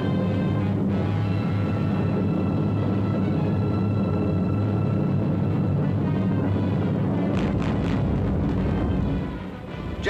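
World War II aerial bombs from B-24s explode on Japanese pillboxes along a coastline, a continuous loud, rumbling roar of blasts that fades slightly near the end.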